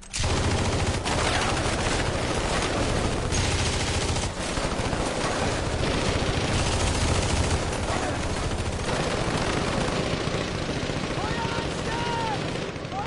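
Sustained machine-gun and rifle fire in a war film battle, dense and loud throughout, with helicopter or aircraft noise and shouting voices mixed into the barrage.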